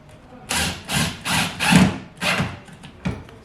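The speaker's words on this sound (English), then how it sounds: "Screw these up into the ceiling, through the lining into your ceiling support strut or nog in the roof structure" Square drive 8 gauge screws with washers are driven up through ceiling lining into a support strut, giving five or six short grinding bursts of a power driver biting into wood, close and fairly loud, separated by brief pauses.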